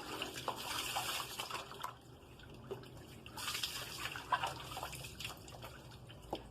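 Water splashing and pouring during a bath in a hot climate, with irregular splashes and trickling in bursts, close and moderately loud, with no talking.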